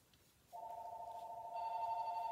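A landline telephone rings indoors with a steady electronic tone that starts abruptly, fairly close and clear, and grows fuller partway through, sounding alone with no talk.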